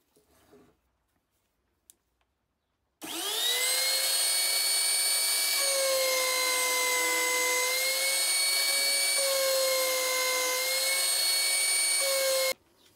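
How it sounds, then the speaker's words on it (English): Router cutting holes in a wooden TV stand, spinning up abruptly to a loud, steady high-pitched whine that holds with slight pitch shifts for about ten seconds before cutting off. "get the router out and just router out these holes"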